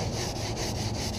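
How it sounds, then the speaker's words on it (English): Hand sanding a painted catamaran deck with 220-grit sandpaper between coats makes quick, even back-and-forth rasping strokes, close and steady, with no talking. "Second coat, hand sanding"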